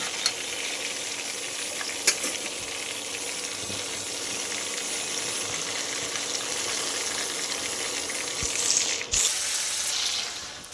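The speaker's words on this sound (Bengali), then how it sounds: "বাকি যে চিকেনগুলো আছে সেগুলোকে আমি এই তেলের মধ্যে আবার ভেজে নেব" Chicken pieces sizzle in hot oil for Bengali doi chicken, a steady crackling hiss with light stirring and a couple of sharper clatters, close by and with no talking.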